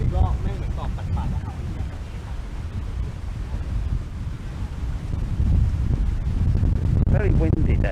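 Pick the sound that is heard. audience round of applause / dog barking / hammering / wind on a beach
wind on a beach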